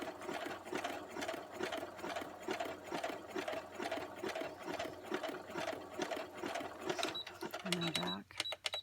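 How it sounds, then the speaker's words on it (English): Sewing machine zigzag-stitching the cover of a small handmade notebook, a fast, steady mechanical chatter heard up close under a person talking, ending with a few clicks and a short whir. "I'm going to do a little zigzag here, because this is the front of the book,"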